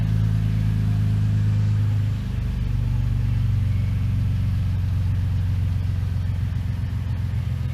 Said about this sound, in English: Next, we're starting the car, and we're gonna steer back and forth so that way the alignment rack sees it.